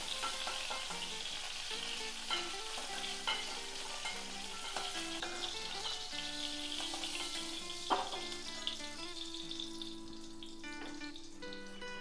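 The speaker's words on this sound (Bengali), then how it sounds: "এখন এই আলুগুলো ভেজে নিচ্ছি।" Potato pieces frying in hot oil for a cauliflower and egg curry, a steady loud sizzle with occasional stirring clinks throughout, with no talking.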